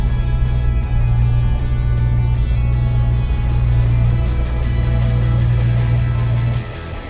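A 1972 Plymouth Road Runner on a test drive, heard from inside as a steady, loud, low engine drone with road roar that holds evenly, then drops off near the end as the car slows.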